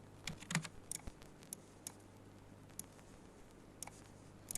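Values typed into an Excel spreadsheet on a computer keyboard, a close, quiet run of irregular key taps, a quick cluster at first, then sparser single clicks, with no talk.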